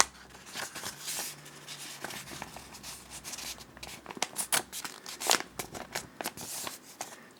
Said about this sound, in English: fold it in half, and then let's fold it in half one more time